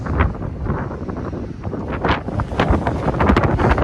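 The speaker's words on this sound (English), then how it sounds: "as you can hear, seriously windy" Strong sea wind roars and buffets the microphone on a fishing pier at Harwich and Dovercourt in continuous heavy gusts, a loud rushing rumble that swells and never lets up.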